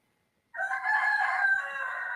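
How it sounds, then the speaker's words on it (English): A rooster crows close by, one long drawn-out call that rises and holds after half a second of silence, loud and clear with no talking over it. "that chicken just affirmed that"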